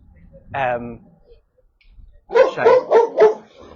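A brindle Boerboel-type dog chained in a yard barks close by, one drawn-out bark followed after a pause by a quick run of four sharp barks.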